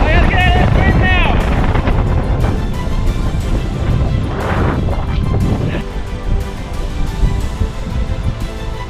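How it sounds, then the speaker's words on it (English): Strong wind gusts blast across the microphone beside the Ghost River on a hiking trail, roaring loud and near for the whole stretch. A person shouts over the wind near the start. "I gotta get out of this wind now!"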